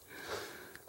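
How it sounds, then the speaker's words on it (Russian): Sleeping cat snoring softly, a single faint wheezy breath with a nasal whistle, very close and quiet, no talk. "храпит. Ничто его не пробудит."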